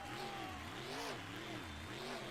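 Engine of the War Machine monster truck revving in rising and falling surges during a freestyle run at an Atlanta arena, rough and continuous under a loud crowd roar.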